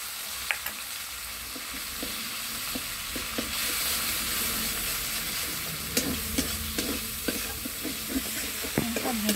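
Cauliflower being stirred and fried with coconut paste in a pan, a steady sizzle with repeated spoon scrapes and clinks throughout, close and moderately loud, no talking.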